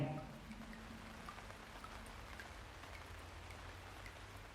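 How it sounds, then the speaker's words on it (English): Rain falling heavier, a dense steady patter of drops spread evenly over a soft continuous wash, alone and without voices. "The rain starts falling heavier,"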